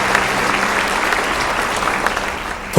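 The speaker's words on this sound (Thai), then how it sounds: "ขอเสียงปรบมือครับ" Audience at a seminar applauds the chairman, a steady, dense wash of clapping from a crowded room sustained throughout, ending with a short louder thump.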